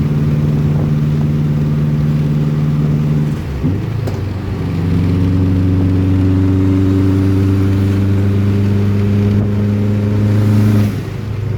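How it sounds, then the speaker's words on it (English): A turbocharged Subaru WRX engine pulls hard from inside the car during a ride-along, its loud, steady drone dipping briefly at a gear change before rising again and holding strong. "Hear that turbo? That turbo makes a lot more noise."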